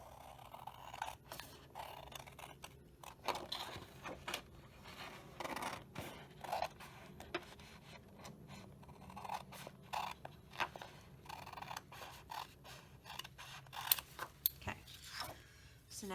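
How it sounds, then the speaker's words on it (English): Scissors snip a photo out for a scrapbook page in a long run of crisp, quick cuts at close range, some spaced apart and some in brief flurries. "So now we've got our photo cut out in this nice border."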